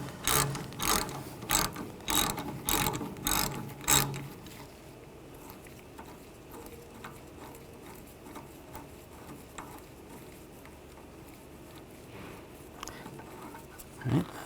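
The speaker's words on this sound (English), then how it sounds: "Use a 11mm socket, take the banjo bolt out." An 11mm socket on a ratchet backs out a brake hose banjo bolt on a 2014-2018 GMC Sierra 1500, giving a burst of sharp, close clicking strokes in quick succession, then quiet workshop background with faint scattered ticks.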